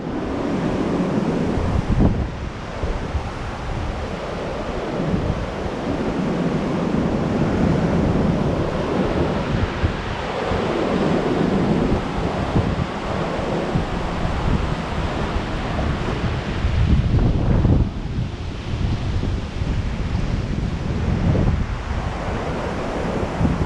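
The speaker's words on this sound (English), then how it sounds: "just a quick little bit of slow motion on HFR of the waves coming in over the old Shipwreck." Ocean waves roll in over an old shipwreck, a steady broadband wash of surf with heavy wind buffeting the microphone throughout.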